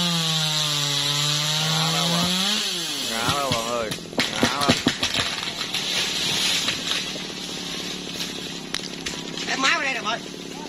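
A G4500 chainsaw cuts branches from a large dầu tree. A steady droning engine runs throughout, with a pitch sweep early on and irregular rasping bursts of cutting. A voice talks over part of it.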